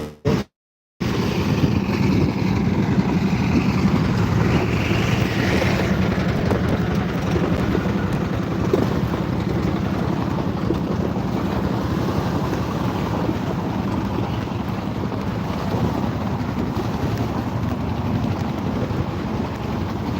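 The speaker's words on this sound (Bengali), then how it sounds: "যমুনা দেখেন ছোট ছোট নৌকা কিভাবে যাচ্ছে" Small boats travel along the Jamuna river under a steady, loud wash of wind and moving water, with wind buffeting the microphone throughout after a brief pause at the start.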